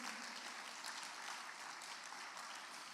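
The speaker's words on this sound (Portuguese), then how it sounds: "Dê um forte aplauso a Jesus" Congregation clapping together during an evening family service at a church, steady dense applause filling the space, loud and continuous throughout with no pauses.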